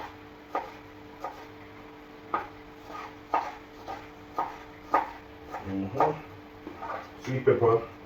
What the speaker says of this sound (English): Cut up the sweet pepper now.